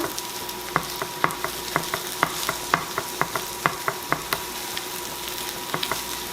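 Garlic scapes and sesame seeds sizzle steadily in a pan while a utensil stirs them, sharp scraping clicks repeating at an irregular, quick rhythm over the constant frying hiss.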